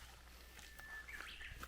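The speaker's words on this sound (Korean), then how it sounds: "섬 휘파람새입니다." A Japanese bush warbler sings in the Gyorae forest of Jeju Island, its clear whistled notes rising faintly over a quiet woodland background.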